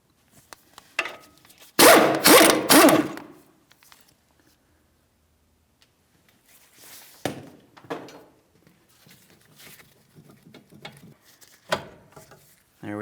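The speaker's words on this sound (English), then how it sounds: "We're using an 18mm to start removing this mounting nut." Ratcheting 18mm socket wrench loosening the front sway bar link mounting nut at the lower control arm of a 2007-2014 Ford Edge, a dense burst of clicks followed by scattered lighter clicks and clanks, close up.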